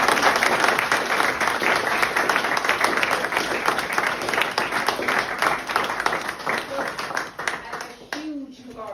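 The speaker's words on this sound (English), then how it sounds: "we'll give them a round of applause" A gathering applauds artists at a talk, with dense, energetic clapping for about eight seconds that tapers off as a voice begins speaking at the end.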